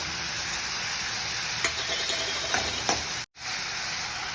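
Tomatoes, mint, ginger garlic paste and green chillies sauté in a pan, a steady broad sizzling hiss with a few soft stirring scrapes, close and even, briefly cut out near the end, with no voices.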